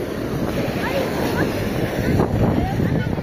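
Waves washing on a beach at sunset, a steady broad surf rush with gusts of wind buffeting the microphone, while people talk nearby over the water.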